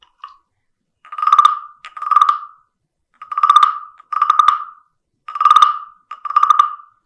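A voice imitates a big frog croaking, giving six loud, resonant croaks alone in a steady rhythm of paired bursts with short silences between pairs.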